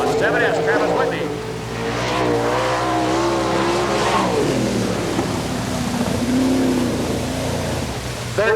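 A winged sprint car laps a dirt track at Gibsonton, Florida, its engine whining and shifting in pitch as it passes, with an announcer talking over the roar.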